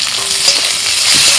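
Ginger, garlic, chopped tomato and green chilli frying in hot oil, with a loud, close, continuous hiss of sizzling for just over a second.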